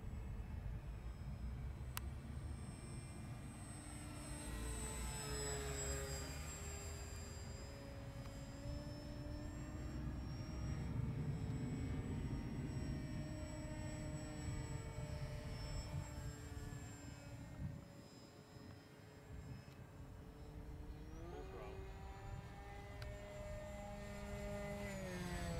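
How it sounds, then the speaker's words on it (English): A Durafly Bonanza 950mm RC model airplane flies past with a continuous electric propeller whine. Its pitch sweeps and shifts as the plane passes overhead, and the whine stays steady and fairly loud throughout, with no talking. "Nice looking little civilian plane."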